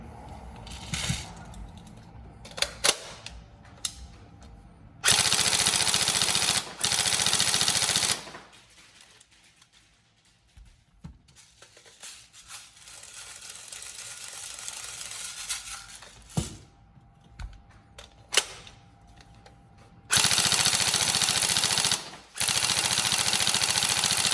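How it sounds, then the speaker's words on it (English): An upgraded TM M4 CQB-R NGRS airsoft rifle firing in several long, loud, rapid full-auto bursts, with quieter clicks and handling noise between strings. "so we'll get some more rounds through it"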